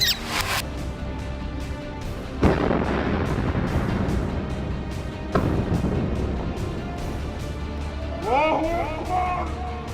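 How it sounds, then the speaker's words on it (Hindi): A rocket launcher attack in Khan Younis during the Gaza war brings a few heavy, booming blasts with rumbling aftermath, followed by a short series of sharp cracks and whistling near the end. "रॉकेट लॉन्चर से हमला कर देते हैं, जिसके बाद जोरदार धमाका होता है।"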